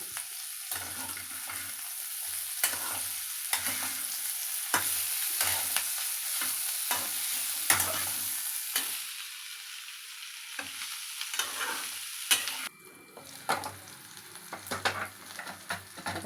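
Green chillies fry in a pan of spiny gourd (aagakarikayi) curry, making a constant soft sizzle broken by repeated sharp scrapes of a spoon stirring against the pan.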